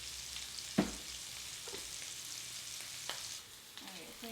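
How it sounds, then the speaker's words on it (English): Onions cook in fat in a heavy skillet for beef heart stew, giving a soft continuous sizzle with a couple of clear utensil knocks and quieter scraping movements. "Let the onions cook until they are getting a bit translucent."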